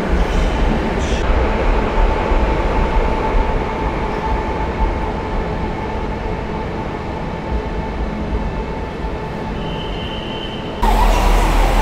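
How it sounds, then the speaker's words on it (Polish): A Koleje Dolnośląskie passenger train rolls along the tracks with a steady, close rumble and faint rail rattle throughout, ending with a brief louder jolt. "Jest kolejny pociąg kolei dolnośląskich, też jest ładny."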